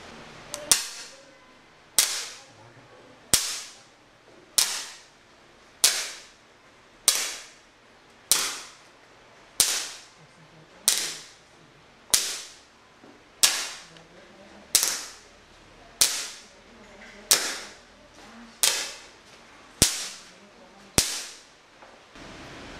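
Twenty receivers of a DBR05-X1-20 digital remote firing system fire one after another, each a sharp, loud crack like a cap gun, evenly spaced about a second apart with a short decay after each.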